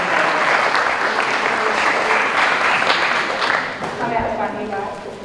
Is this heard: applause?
yes